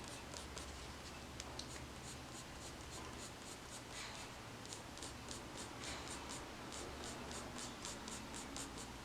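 Colored pencil flicked across paper in quick, repeated short strokes, a steady rhythm of soft scratchy swishes, close and fairly quiet, with no talking.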